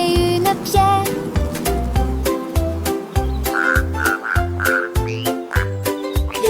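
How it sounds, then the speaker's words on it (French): Loud, rhythmic croaking pulses repeat in a steady beat, with higher chirping calls layered above, like a lively chorus of frogs close by. "les grenouilles commençaient"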